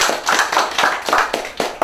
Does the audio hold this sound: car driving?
no